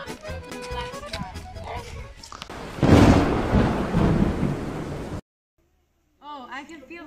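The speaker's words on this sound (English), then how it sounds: "Oh, I can feel the strong waves, the thunder." Heavy thunderstorm at sea with a loud rumbling thunder crash and rain noise, mixed under a voice talking, then a short silence and more speech.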